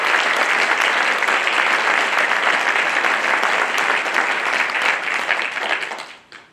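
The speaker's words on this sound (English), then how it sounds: "Please join me in thanking them with a round of applause." An audience at a high school National Honor Society induction ceremony gives a loud, sustained round of applause, dense clapping from many hands that holds steady before tapering off quickly at the end.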